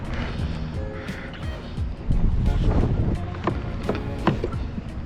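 Steady wind buffets the microphone while kayak fishing for tautog on the ocean off Ocean City, Maryland, a continuous close rumble with faint water and boat noise that grows louder partway through.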